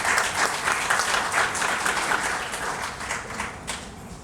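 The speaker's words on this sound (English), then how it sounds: "Please give a big round of applause for the county councilwoman, Yvonne Conwell." An outdoor crowd applauds at a library groundbreaking ceremony, a full, dense round of clapping that stays loud and steady for about four seconds before easing slightly, with no voices over it.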